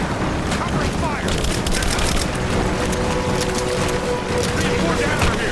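Sustained gunfire in the Rise of the Tomb Raider video game during a catacomb firefight, a dense unbroken crackle of shots over a heavy rumbling din, with shouted voices faintly mixed in.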